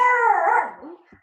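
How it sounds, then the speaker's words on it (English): A dog gives one drawn-out, whiny bark-howl indoors, fairly close, with a faint small yip trailing after. "That's my dog."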